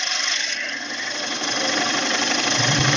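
A gouge cutting along the curved exterior of a wooden bowl spinning on a lathe, a loud, steady droning hum with continuous scraping texture throughout, close up and without speech.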